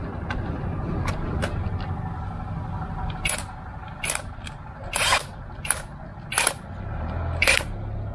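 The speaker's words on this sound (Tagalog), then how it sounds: "impact wrench." An impact wrench fitted with a protective wheel socket works on a car wheel's lug nuts, firing in about six short, sharp rattling bursts with pauses between them over a steady background hum.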